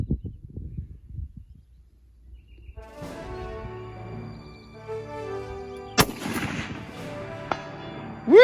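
An AR-10 rifle with a Faxon barrel fires at a 400-yard target outdoors: one sharp, loud report stands alone, followed by a fainter second crack moments later.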